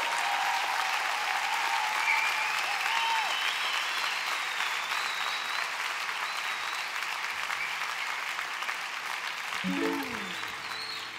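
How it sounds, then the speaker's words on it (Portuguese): A concert audience applauds, dense sustained clapping and crowd noise filling the space for several seconds before fading slightly, with a voice beginning to speak near the end. "uma grande salva de palmas para ele"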